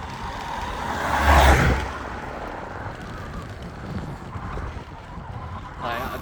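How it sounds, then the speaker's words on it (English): A car approaches a cyclist on the road and swells into a brief broadband whoosh as it draws near. Wind buffets the microphone and faint speech follows. "that car's coming in"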